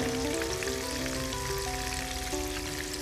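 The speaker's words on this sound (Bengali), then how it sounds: "চিংড়ি হতে খুব বেশি সময় লাগে না, তাই এটা ভাজতেও খুব বেশি সময় লাগবে না।" Shrimp frying in a hot pan gives off a steady, close sizzle with fine crackling throughout, with no talking.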